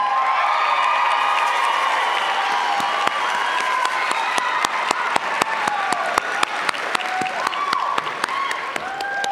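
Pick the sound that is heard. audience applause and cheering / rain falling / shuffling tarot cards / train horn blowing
audience applause and cheering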